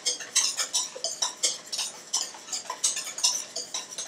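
Pumpkin crème brûlée custard whisked in a bowl: quick, even strokes clink and scrape against the sides about three times a second, close and steady with no voices.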